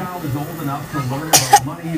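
A single sharp cough bursts out over a murmur of talk, followed by a short second burst, close to the listener.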